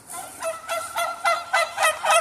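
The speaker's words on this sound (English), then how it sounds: "Those are white turkeys." White turkeys gobbling on a farm, a run of about six repeated rattling calls in quick succession, fairly close and clear with no talking over them.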